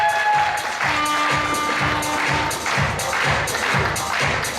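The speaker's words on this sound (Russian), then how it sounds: "овации встречаем!" Rhythmic audience applause at a university pageant award ceremony, synchronized clapping in steady regular bursts about twice a second, loud and close, with a faint musical tone beneath and no speech.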